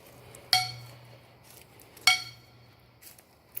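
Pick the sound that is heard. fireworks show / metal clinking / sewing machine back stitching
metal clinking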